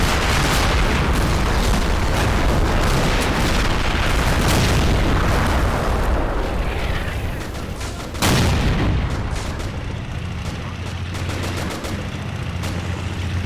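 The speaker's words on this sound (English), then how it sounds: "Here's the Russian artillery." Russian artillery pounds the field in the Men of War Assault Squad 2 game during a 1944 Eastern Front battle, a dense roar of booming blasts with one sharp, heavy impact partway through.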